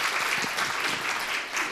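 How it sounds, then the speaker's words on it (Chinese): An audience at a lecture claps steadily for a professor, a brief burst of dense applause that fills the room. "热烈的掌声欢迎刘琴教授"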